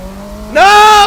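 Car tires squeal loudly under hard braking in Forza Motorsport 6, a sudden high screech that rises in pitch and holds for about half a second over a low engine hum.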